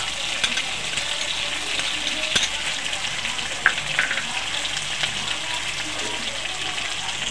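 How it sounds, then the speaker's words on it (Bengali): Soaked spice paste of cumin, coriander, Kashmiri chilli and turmeric sizzling in a pan for dhokar dalna, a steady close frying hiss with a few sharp spatters and clinks of stirring. "দিয়ে ভালো করে মশলাটাকে কষিয়ে নেব।"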